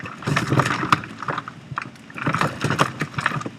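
A compost tumbler being spun by hand makes a continuous close rumble of shifting contents, with knocks, clunks and scraping rising and falling as the drum turns.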